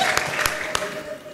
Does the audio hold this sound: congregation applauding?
yes